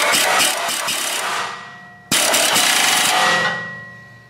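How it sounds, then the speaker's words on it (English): A ratchet on a long extension with a universal swivel and deep-well socket tightens automatic transmission bolts in two loud, close, rattling bursts, the second starting abruptly after a brief pause and running slightly longer. "What I got here is a pretty long extension with a swivel, universal swivel on a deep well, and I'm tightening these up."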